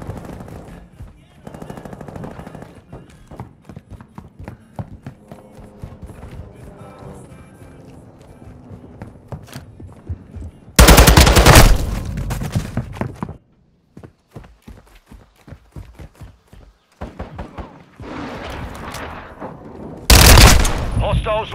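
Gunfire in a Call of Duty: Modern Warfare II multiplayer match comes as rapid automatic bursts and scattered shots, some close and loud, with two very loud blasts amid the shooting.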